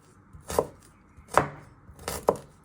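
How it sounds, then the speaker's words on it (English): Knife slicing a halved piece of ginger on a cutting board, three distinct crisp chops at an even, unhurried pace over a faint background hiss, close and alone. "what you want to do is you want to slice it"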